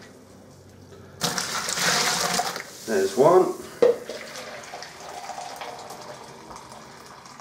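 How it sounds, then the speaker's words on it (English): Two pints of boiling hot water pour into a home-brew fermenter for an English ale kit in a loud, splashing burst of about two seconds, followed by a short clink and a brief spoken phrase. "We're going to need 2 pints of boiling hot water, so we'll put this in."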